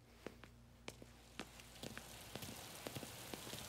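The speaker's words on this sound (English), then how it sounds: "Out in the rain again." Rain falls in Mafia Definitive Edition as a steady hiss with scattered sharp drips and taps, quiet overall, with no speech.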